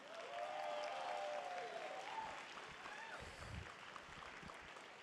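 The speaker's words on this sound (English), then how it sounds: "Can you all give them a round of applause for me, please?" An audience at a convention opening ceremony applauds staff members, with sustained clapping and cheering from a large crowd that stays steady, then slowly thins with some voices mixed in.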